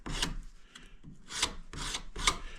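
A plasterboard offcut is rubbed against plasterboard edges in short, rasping strokes, about four scrapes with gaps between, close and fairly quiet.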